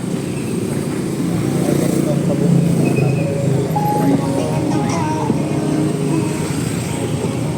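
A Honda ADV160 scooter engine runs steadily and loudly up close, its throaty rumble holding through the whole stretch with slight swells, as though revving at idle.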